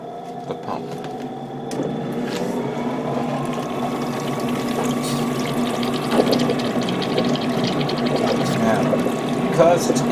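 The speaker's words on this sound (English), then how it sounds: "I'm gonna turn on the pump." A small water pump in a Gundam model diorama hums steadily with a light trickle of water flowing back to its reservoir, close and continuous, joined by a faint fan hum and occasional clicks.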